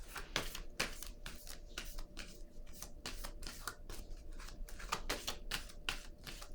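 Tarot cards shuffled by hand in a quick run of crisp riffling bursts and soft flutters, close and fairly quiet, with no talking.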